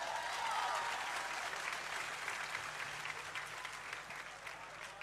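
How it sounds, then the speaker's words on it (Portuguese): Audience applause at a church gathering after a blindfold game, a dense, steady clapping from a large crowd that holds fairly loud throughout and eases slightly toward the end. "uma salva de palmas"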